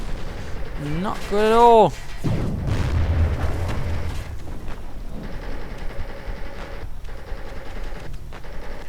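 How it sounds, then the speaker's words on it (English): In a Company of Heroes match running the EF Mod, artillery shells hit with dull booms and sustained rumbling. A commentator speaks over the barrage, and other gunfire and battle noise carry on under it. "Calling in some artillery there"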